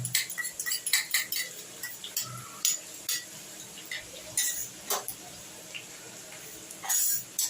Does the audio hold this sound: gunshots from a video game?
no